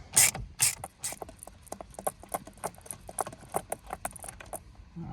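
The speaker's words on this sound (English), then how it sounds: "I've just cracked the big nut, or big bolt. So we'll take that out, and that's the wheel done." A large steering wheel bolt being removed from a Ford BF Falcon with a T50 bit, heard as a quick run of sharp metallic clicks and light rattles close up, with no talking.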